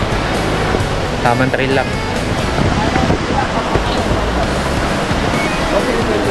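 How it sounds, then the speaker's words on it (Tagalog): Tanawan Falls, a waterfall in Dingalan, Aurora, roars as a steady, loud broadband rush of falling water that fills the whole clip, with people talking briefly over it. "So ito na yon, Tanawan Falls, Dingalan, Aurora."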